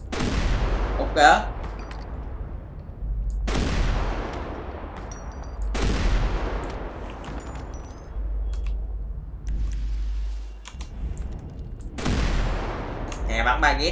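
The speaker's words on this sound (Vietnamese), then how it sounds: "bắn ba nhát ra khói nè" Video game gunfire rings out as a handful of heavy single shots, each a sharp crack with a long echoing tail, spaced a few seconds apart over steady background noise.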